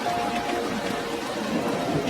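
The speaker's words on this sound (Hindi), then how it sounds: "अचानक आसमान से बिन मौसमी बारिश शुरू हुई और धीरे धीरे आग शांत हो गई।" Sudden unseasonal rain pours down in a cartoon scene, a dense continuous wash of falling water with a low rumbling undertone, steady and loud throughout without speech.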